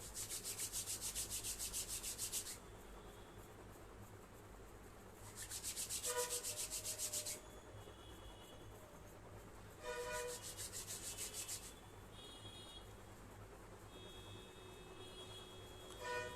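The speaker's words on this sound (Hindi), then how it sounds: "दोनों हाथों को रगड़िए, आंखों की पलकों पर सटाइए 3 बार।" Both hands rubbing briskly together during a guided meditation, three separate bursts of dry swishing friction, each a second or two long, separated by quiet pauses over a steady low hum.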